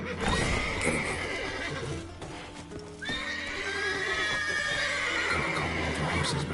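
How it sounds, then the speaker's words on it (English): Horses whinny and neigh loudly inside a stable in The Witcher 3, several long, shrill calls, one after another, over shuffling hoof clatter. "Gotta calm all the horses before they wake the guards."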